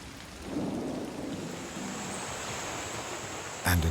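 Steady rain pours down in the Guyana rainforest during a short storm, a dense continuous hiss with low rumbling swells, with no voices.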